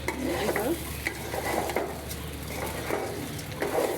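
Steady sizzling of food frying in a pan, with scraping and clinking as it is stirred, close and continuous.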